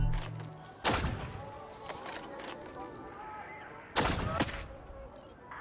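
Two sharp, loud sniper rifle shots ring out a few seconds apart in the mobile video game Hitman Sniper, each with a short booming tail over quiet game ambience.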